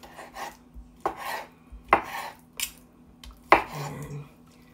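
A knife slices through tender cooked octopus tentacles on a board, with about six separate sharp cuts and scrapes in an irregular rhythm, close and fairly crisp against a quiet background.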